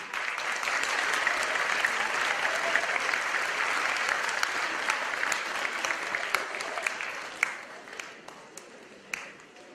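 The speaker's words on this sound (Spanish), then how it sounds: "Recibamos con un fuerte aplauso a Monsieur Pierre-Laurent Poulet." Warm applause from a seminar audience greeting a guest speaker at a fruit-growing conference, a dense, steady wash of many hands clapping, with a few louder individual claps standing out as it thins toward the end.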